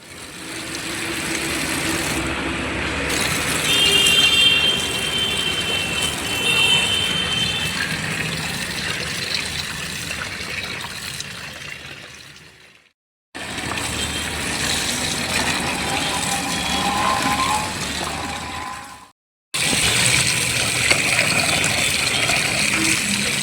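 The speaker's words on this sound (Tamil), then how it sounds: "மஞ்சாத்தூளும் உப்பும் போட்டு தான் கழுவணும்" Running water splashes and gushes steadily as fish is washed with turmeric and salt, with two brief breaks in the flow and occasional clinks from handling, and no talking.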